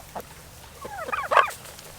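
Farm turkeys gobble near a livestock guardian dog, a run of quick rattling gobbles that grows louder and then trails off, with a faint low hum behind.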